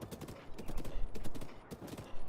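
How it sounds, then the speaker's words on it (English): Horse galloping at normal run speed in The Legend of Zelda: Breath of the Wild, Master Mode, a steady rapid clip-clop of hooves close by with a low rumbling bed and brief busy bursts, no voices. "this horse that I have has the fastest speed, so even just its normal run speed like this is faster than all the enemies"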